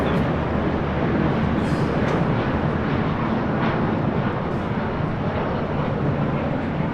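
An old US Airways Airbus A319 at LAX roars steadily through the whole stretch, a broad, constant engine rush with no talking.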